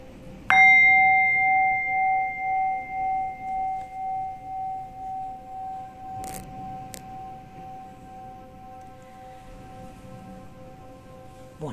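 A single bell strikes once, clear and resonant, then rings on in a long, slowly fading tone with a gentle pulsing shimmer over quiet room hiss.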